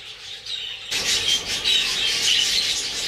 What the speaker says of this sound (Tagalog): So ayan yung mga ibon ko.